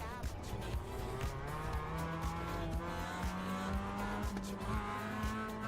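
Sim racing car noise from an MX-5 race car in iRacing as it slides off the track, a steady engine drone with tire squeal and skidding running through, loud and continuous, without talk.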